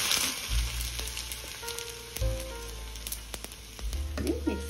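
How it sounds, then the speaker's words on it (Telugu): Cumin and mustard seeds frying in hot oil make a loud, steady sizzle with scattered crackles and pops, close up and continuous throughout. "జీలకర్ర 1/2 టేబుల్ స్పూన్, ఆవాలు వేసుకోండి. చూసారు కదా వేగిపోయింది"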